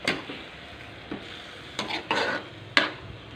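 Squid adobo sautés in a pan with a soft sizzle under a few scraping stirs and clinks of a utensil against the pan, close and moderately loud.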